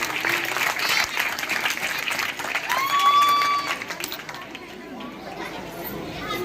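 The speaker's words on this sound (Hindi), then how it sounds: "सबसे पहले इन दोनों अहबाब के लिए ताली होनी चाहिए।" Audience applause for guests at a school result ceremony, a lively burst of clapping from a crowd of students and parents with chatter mixed in, loud at first and tapering off into murmuring voices.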